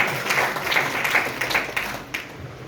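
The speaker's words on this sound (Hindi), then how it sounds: "जोरदार शानदार ताली होनी चाहिए" Audience applause at a network-marketing business gathering, a dense burst of many hands clapping at close range, steady and loud for a few seconds before easing off slightly, with no talking over it.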